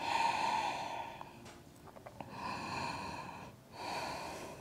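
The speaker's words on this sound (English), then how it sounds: "Breathing out through the nose." During yoga, a person breathes out slowly through the nose, close and soft. Two long airy exhales are separated by a quiet pause, and a third exhale begins at the end.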